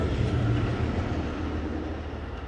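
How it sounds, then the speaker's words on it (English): A train passes outside, a steady low rumble with rail clatter that stays loud and continuous throughout, with no talking over it. "that's my friendly neighbor train"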